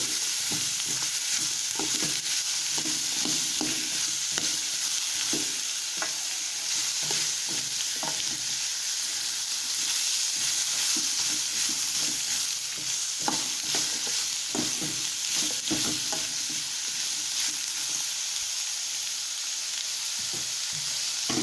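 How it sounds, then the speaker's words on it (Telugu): Snake gourd pieces sizzle loudly in a pan while being stirred, with a continuous hiss of frying broken by scraping stir strokes throughout, no voices. "మనం పొట్లకాయ ముక్కలు వేసుకుందాం. వేసి బాగా కలుపుకోవాలి."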